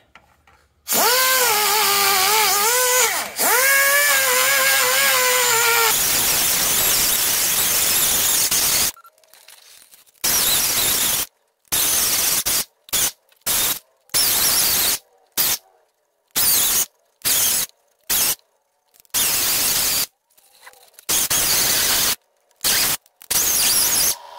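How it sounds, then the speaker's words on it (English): A die grinder with a carbide burr works a Ford 9-inch axle housing: a long shrill whine with pitch wavering under load, then a series of short on-off grinding bursts separated by silences. "carbide burr on the die grinder to clean that up a little bit"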